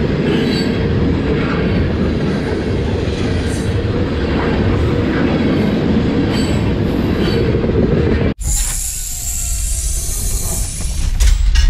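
A Norfolk Southern freight train rumbles past loudly and continuously, a dense roar of wheels and cars, then the sound abruptly shifts to a thinner, hissing rattle near the end.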